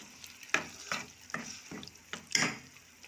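A ladle stirs a thick elephant yam tamarind curry in a pot, with a few wet scraping, sloshing strokes repeating roughly every half second, close and moderately loud with no talking.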